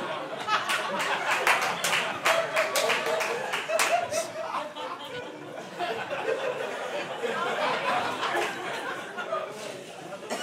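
A stand-up comedy audience claps in scattered bursts mixed with chuckles and murmured chatter, the sharp hand claps loosening into laughter and crowd noise over several seconds.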